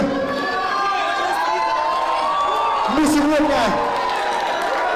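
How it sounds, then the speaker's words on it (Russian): Concert crowd shouting and cheering together at a show in Berdyansk, a dense roar of many voices with rising chant-like swells, loud and continuous throughout. "вместе с вами от души кричим наш боевой, искренний и смелый клич"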